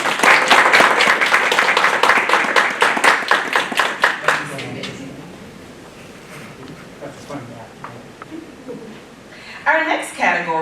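Sustained audience applause at a university diversity awards ceremony, dense steady clapping for about four seconds that tapers off into quieter room sound, followed by a voice speaking near the end.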